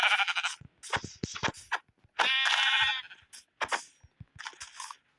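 Several sheep bleats from a Minecraft game ring out in quick succession, interspersed with sharp clicks and crunching sounds, fairly close and clear.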